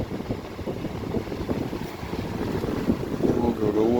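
2002 Lakewood WC2000 fan running, a steady airy whoosh with a low motor hum, constant and fairly close, with a faint tonal whine near the end.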